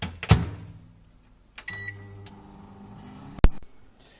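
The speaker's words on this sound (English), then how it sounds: "shove it back in the microwave" A microwave oven melting chocolate: a sharp door thump and beep, then a low humming run with faint whirring, ending in another clunk as the door opens.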